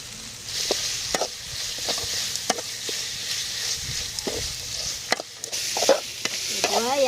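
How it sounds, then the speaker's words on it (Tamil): Fresh green curry leaves crackle and sizzle in hot oil at close range, with stirring scrapes and sharp spatters breaking through a steady frying hiss. "கறிப்பிலை, பச்சை கறிப்பிலை போட்டுக்கலாம்."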